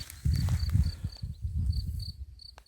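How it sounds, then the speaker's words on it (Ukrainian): Crickets chirp in short repeated bursts during an outdoor walk, a steady high pulsing rhythm over soft low rustles and footstep-like thuds near the microphone. "І цвіркуни цвірчать."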